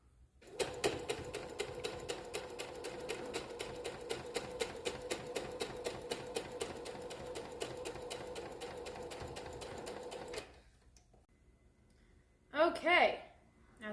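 A sewing machine stitches quilt squares in a fast, even run of needle strokes for about ten seconds, then stops, and a brief burst of noise follows.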